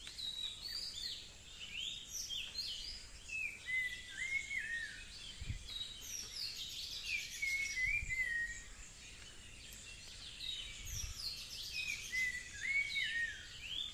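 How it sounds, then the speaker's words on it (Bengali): Birdsong fills an outdoor scene, with repeated whistled and chirping phrases throughout, fairly clear and moderately near, over a quiet steady background and a few soft low thumps. "এই বড়োর পাখির ডাক।"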